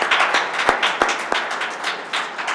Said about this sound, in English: Yeah, you can applaud again.